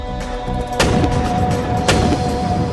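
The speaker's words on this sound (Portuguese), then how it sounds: "a bala teria que ser disparada do canhão a 28 mil quilômetros por hora" Cannon firing, two loud booming blasts about a second apart, each a sharp broadband crack followed by a rumbling tail.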